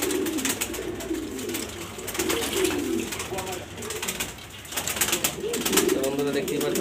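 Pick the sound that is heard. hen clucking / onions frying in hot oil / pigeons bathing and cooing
pigeons bathing and cooing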